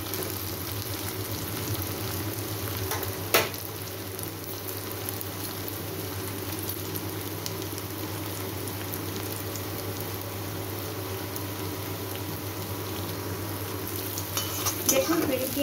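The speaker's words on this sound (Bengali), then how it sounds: "পেঁয়াজটাকে খুব ডিপ ফ্রাই করবো আমি, ভালো করে ভাজবো, ব্রাউন করে ভেজে নেব পেঁয়াজটা।" Onions deep fry in a pan of hot oil for a chicken curry cooked without water, giving a steady close sizzle with occasional clinks and scrapes of stirring.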